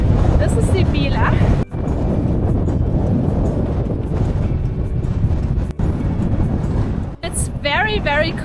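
Cold wind gusting across an exposed Scottish hilltop near 500 metres, a loud, continuous roar buffeting the microphone with brief drops, and faint voices or other sounds at the edges.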